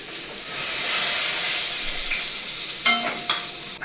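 Dissolved spice paste hits small fish already fried red in hot oil, setting off a loud, sustained close-up sizzle that eases into softer hissing, followed by a few clinks of a utensil against the pan.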